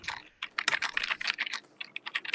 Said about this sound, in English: I'm going to need to wait for Ulrich to stop typing.